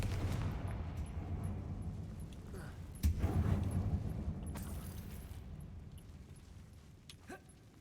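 Confringo fire spell from Hogwarts Legacy, one sharp booming blast with a rumbling tail that slowly fades, loud and up front inside a tomb.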